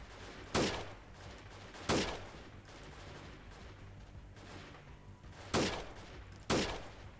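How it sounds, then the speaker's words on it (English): Gunfire in the Freeman: Guerrilla Warfare combat game during a town assault: four sharp, loud shots spaced several seconds apart, each decaying quickly over a steady low background hum. "That's a headshot."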